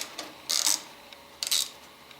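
A socket wrench ratchets on a 12mm battery bolt of a Suzuki DR650 motorcycle, two short bursts of quick, close clicking separated by a brief pause.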